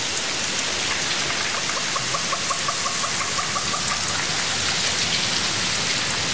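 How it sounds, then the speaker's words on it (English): Heavy rain falls on the tropical rainforest of India's western slopes, a dense and constant patter of drops with a few brighter nearby drips. It is loud and steady with no voices. "where it condenses and falls again as rain."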